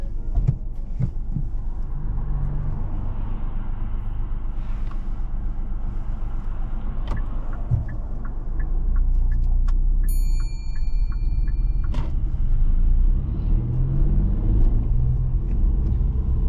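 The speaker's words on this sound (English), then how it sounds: "so whenever you're ready, Eva, I'd like you to drive off from here and just go straight down this road." A car pulling away and driving along a road: a continuous low engine and tyre rumble heard from inside the vehicle, steady and fairly loud, with a few faint clicks and a short beeping tone partway through.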